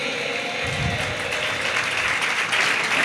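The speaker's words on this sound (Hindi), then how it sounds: "जोरदार तालियां इस बच्चे के लिए।" An audience at a Jain community award ceremony in Itarsi applauds a child who took third place, with steady dense clapping running throughout.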